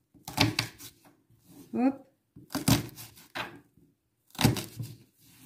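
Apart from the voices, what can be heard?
knife cutting an onion in half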